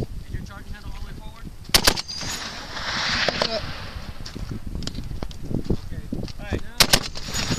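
Gunshots from a big gun fired at a range, two loud sharp blasts several seconds apart with a brief crack between, over steady wind noise and people talking nearby.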